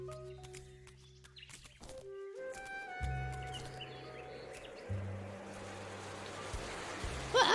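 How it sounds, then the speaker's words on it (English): Cartoon rain begins falling as a steady wash of drops that swells and thickens, with a few bright tonal music notes and brief bird-like clucks over it. "I can't believe it's raining."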